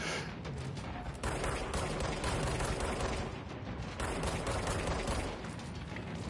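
Dense, continuous gunfire in the Control video game, rapid overlapping shots and impacts blending into a loud, sustained fusillade with a brief dip partway through, with no talking.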